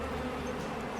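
Honey bees at a backyard beehive, a continuous close, dense buzzing drone with no talk, lasting about a second.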